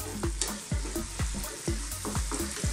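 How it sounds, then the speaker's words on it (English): Turmeric and other spice powders are stirred in a hot karahi over high heat for chicken balti: a quick, regular series of scraping strokes over a continuous sizzle, close up, with no voices. "keep mixing this around and stirring it"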